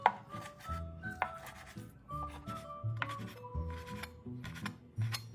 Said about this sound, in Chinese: 再像视频这样切几刀